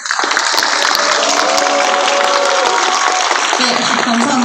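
A large crowd at a memorial rally for a Seoul National University cleaning worker cheers and claps in a loud, dense, sustained roar that stays close throughout.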